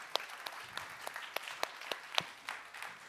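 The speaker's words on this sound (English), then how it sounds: "Round of applause, please." A conference audience applauds panelists after a session on the Baltic bio-future, a light, fairly distant round of clapping with a few sharper nearby claps standing out, no talking.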